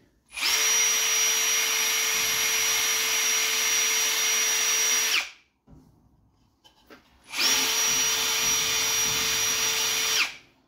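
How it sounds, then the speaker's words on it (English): Sandoflex 80 grit flap sander working a sheoak bowl, two loud sustained bursts of motor whine and abrasive rasp, each about five seconds, separated by a brief pause. "Sandoflex does a pretty good job of getting most of this stuff off. It's 80 grit."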